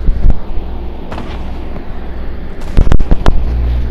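Enemy gunfire in Fortnite, a few sharp loud bangs near the start and a tight cluster of shots toward the end over a steady rumbling vehicle drone.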